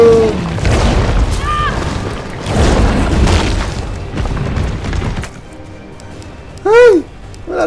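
Loud grenade blasts boom in the Resident Evil 3 Remake game, heavy bursts layered with game effects, with an excited voice shouting over them.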